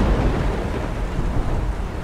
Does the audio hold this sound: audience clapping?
no